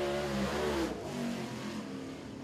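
Race car accelerating hard out of turn four at Thunderhill Raceway in Southern All Stars qualifying: a loud, sustained engine roar that stays strong throughout, easing slightly partway as the car pulls away.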